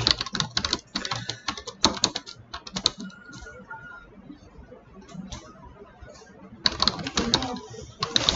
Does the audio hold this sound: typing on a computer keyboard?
yes